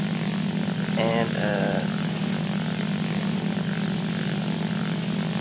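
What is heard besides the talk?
Focke-Wulf FW 190 A-1 engine in flight, War Thunder video game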